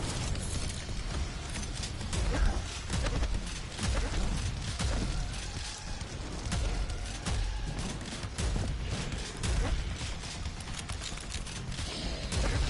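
Dense, continuous gunfire and explosive blasts from a shooting video game, loud and steady throughout with crashing impacts mixed in and no talk.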